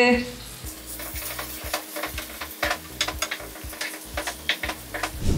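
Onion, garlic and green chillies frying in oil for shark puttu, with steady sizzling under repeated spatula scrapes and taps against the pan, close and clear.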